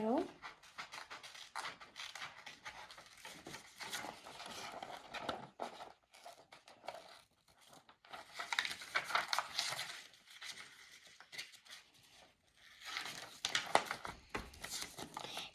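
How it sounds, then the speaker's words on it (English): Scissors cut through paper to trim out a hand-drawn sticker shape, giving faint, close, intermittent snips and crinkles in uneven bursts with quiet gaps between them. "And then just cut out your thing that you drew."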